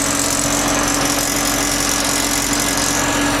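A tractor engine runs steadily with the blower of a Kinze planter switched on, giving a loud, continuous mechanical drone and hum at close range with no break or talking.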